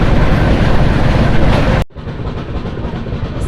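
The Janmabhoomi Superfast Express (12806) runs at close to 100 km/h, its wheels rattling loudly over the rails in a steady rumble that drops abruptly partway through as the surroundings change, then carries on at a lower level.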